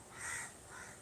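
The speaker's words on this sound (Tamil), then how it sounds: "அந்த வந்து உட்காந்துச்சு, இது காக்கா." A single crow gives a short, clear caw, moderately close with a faint second note trailing after it, and quiet surroundings.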